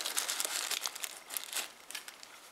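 A small plastic bag holding a 5 V USB cigarette-lighter adapter crinkles steadily while a YI dash cam is unboxed, with close, crisp rustles that go on without talk.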